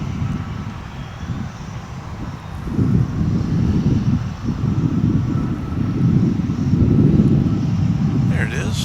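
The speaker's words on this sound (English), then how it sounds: "Spirit Airlines on its way to Las Vegas with an A320neo" A Spirit Airlines Airbus A320neo jet at Dallas/Fort Worth International Airport gives a low, rumbling roar that swells and ebbs in waves, with wind buffeting the microphone.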